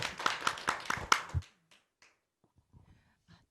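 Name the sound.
audience applause welcoming a speaker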